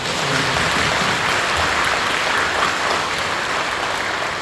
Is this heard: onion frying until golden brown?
no